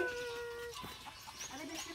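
Turkeys calling in a farmyard, a mix of clucks and gobbling notes over steady background noise, fairly faint and at a distance.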